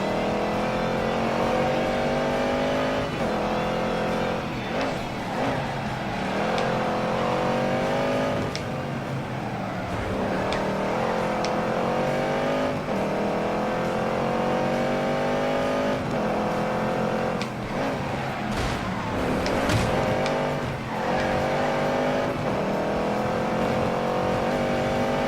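Muscle cars in The Grand Tour Game roar through a race, with engines revving hard, changing pitch as they shift and accelerate, tires squealing through drifts, and the loud engine noise carrying on without a break.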